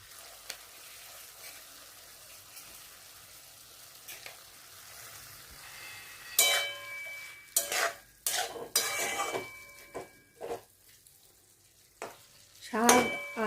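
Saag with potatoes and drumsticks, poppy seeds and a pinch of sugar is stirred in a pan, soft frying hiss then sharp spatula scrapes and knocks against the metal in irregular bursts.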